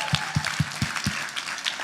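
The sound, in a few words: audience applause for hotel staff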